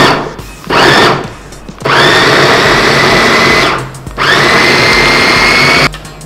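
A kitchen blender purées boiled, softened red beans in loud, steady whirring bursts, with a short pause before each of two longer runs and no talking.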